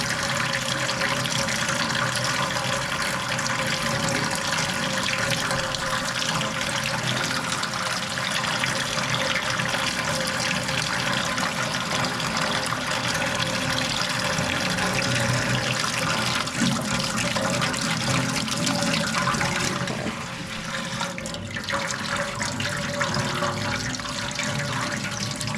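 Warm water pours steadily from a tap into a container for soaking microgreen seeds, a constant close rushing hiss that shifts briefly near the end before continuing.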